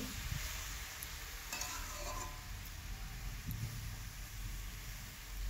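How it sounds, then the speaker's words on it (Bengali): Vegetables being stirred in a frying pan for a vegetarian dish, with a steady sizzle and intermittent scraping and clattering from the stirring, close and continuous. "তো সবজিটাকে বেশ ভালো করে নেড়ে চেড়ে নেব।"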